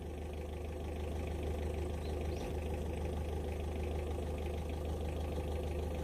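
A car engine idles steadily after being started, a constant low rumble that holds evenly throughout with no voices.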